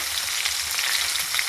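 Onions with cumin and bay leaf spices frying in a pan, a steady crackling sizzle at close range with no talk.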